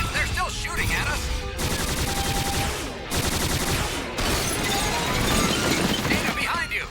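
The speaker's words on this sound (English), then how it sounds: "They're still shooting at us." Rapid bursts of gunfire and explosive crackle fill a Robotech anime battle scene, dense and continuous with brief breaks, mixed with sound effects and voices.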